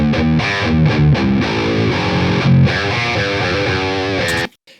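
A heavily distorted electric guitar rings through a cab captured by an AEA R92 ribbon mic, thick and loud with chugging chords and sustained notes, then cuts off sharply at the end.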